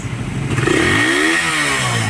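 A motorcycle engine runs after a piston ring and valve guide replacement, idling close by and then revving up and settling with a clattery mechanical rasp, no talking over it.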